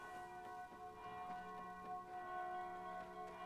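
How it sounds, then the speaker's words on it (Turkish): Bell in the Dying Light 2 video game ringing with sustained metallic tones and several struck chimes spaced about half a second apart, faint and steady, no voices. "Çan çalıyor çan."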